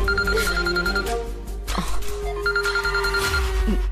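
A telephone rings with a repeated electronic bell tone in two bursts, loud and close, with a brief pause between them and no talk.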